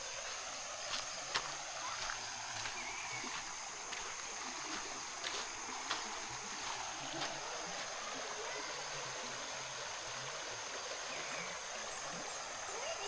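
A river in Agusan del Sur flows with a steady, soft rushing and faint splashes, heard from nearby at low volume with no voices over it.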